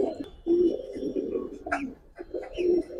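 Giribaz pigeons coo in repeated low, throaty phrases, with two longer rolling coos standing out among softer ones, close by and fairly loud, with a few faint chirps in the background.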